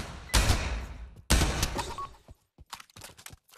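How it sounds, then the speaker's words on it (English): Sniper rifle shots fired in a VR prop hunt video game: two loud, sharp blasts about a second apart, each with a rumbling tail, followed by a string of quieter clicks and smaller impacts. "I fucking sniped the shit out of him."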